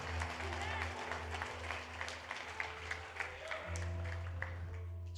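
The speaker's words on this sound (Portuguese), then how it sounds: "Aplauda ao Senhor, amado" A church congregation at a worship service claps over a sustained low keyboard drone, the applause quiet and steady for several seconds with a brief change in the backing tones partway through.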